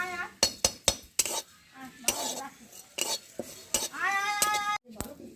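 Whole cumin and coriander seeds dry-roasted in an empty iron wok: sharp metallic spatula clinks and scrapes in an uneven rhythm, close and loud, with a brief tonal cry like a cat's meow in between.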